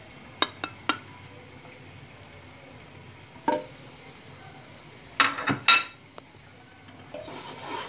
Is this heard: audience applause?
no